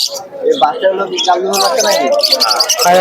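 Pigeons at the Santipur pigeon market coo and chirp at close range, their calls mixing with people talking nearby throughout.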